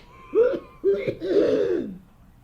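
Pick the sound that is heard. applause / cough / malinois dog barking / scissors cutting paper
cough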